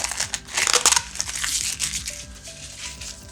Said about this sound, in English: So first of all, I'm going to cut the label off.